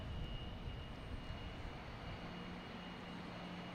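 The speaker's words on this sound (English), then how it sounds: "We get American Airlines 737-800 heading to Chicago. That's lining up on 22 right." An American Airlines Boeing 737-800 lining up on runway 22 right at Boston Logan, heard as a steady, distant low jet engine rumble and broadband roar, fairly faint and unchanging throughout with no voices.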